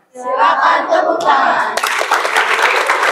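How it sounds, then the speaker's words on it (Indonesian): A class of children clap their hands together in an Indonesian classroom, scattered claps growing into a busy, steady patter that stays loud and close throughout. "Kalau sudah siap, silakan tepuk tangan."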